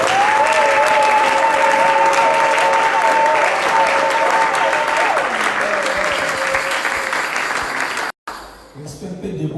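A church congregation in Brussels claps loudly and steadily for God, with a sustained melodic voice or tone running over the applause before it stops abruptly into a brief silence.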